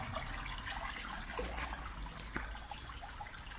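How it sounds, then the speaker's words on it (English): Steady trickling water runs through a culvert under the Leicestershire Brook throughout, a continuous soft babble of flowing liquid with no voices, close and even in loudness. "Wonderful sound, the water."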